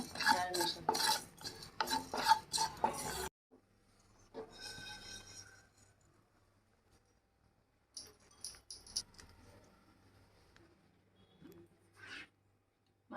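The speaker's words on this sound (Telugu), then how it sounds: "గరం మసాలా అండి కొంచెం ఫ్రై చేసుకుందాం ఆల్ మసాలా" Garam masala is dry-roasted in a pan for a crab curry, with a dense, loud burst of scraping and stirring for about three seconds, then quieter intermittent clinks and rustles of the spatula against the pan.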